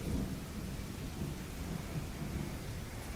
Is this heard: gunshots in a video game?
no